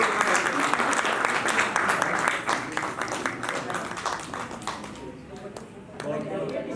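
Steady applause from an awards ceremony crowd, dense clapping that holds throughout and tapers slightly near the end.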